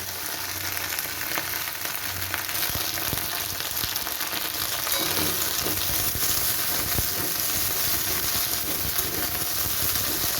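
Okra fries in a pan with a dense, continuous sizzle and occasional stirring scrapes, loud and close throughout.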